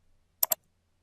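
Two quick computer mouse clicks on WordPress settings buttons, a crisp close double click in otherwise near-silence.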